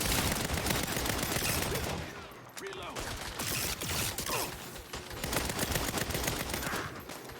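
Rapid bursts of automatic gunfire from real-style guns, including an AR, in the video game Saints Row, loud and nearly continuous with short dips, firing in dense volleys across the whole stretch.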